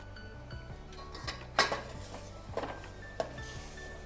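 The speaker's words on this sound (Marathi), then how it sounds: "हा मसाला कांदा खोबरं तुम्हाला मग असे दाखवलं ना तो सगळा मसाला आता यामध्ये परतून घ्यायचा" Onion and coconut masala being sautéed for a village-style chicken curry, with a few sharp spatula knocks and scrapes against the pan over a low steady hum, close and sparse, no talking.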